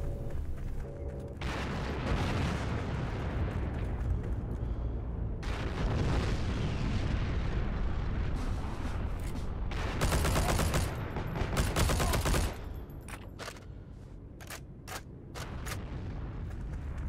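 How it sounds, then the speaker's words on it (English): Rapid explosions and gunfire in the Heroes & Generals battlefield game, loud and sustained, with heavy blasts piling up through the middle and sharp crackling shots and bursts continuing toward the end. "there's too many damn explosions"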